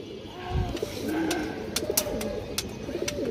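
Pigeons coo close by in low, rolling, repeated calls, with several birds overlapping against a background of sharp clicks and rustling.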